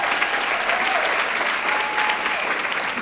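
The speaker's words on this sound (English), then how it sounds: "We can give her a round of applause." Steady, dense applause from an awards-ceremony audience fills the room evenly for a few seconds, loud and continuous with no talk on top.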